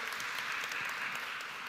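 Audience applause at a seminar, a steady wash of clapping from a crowd that holds evenly without breaks.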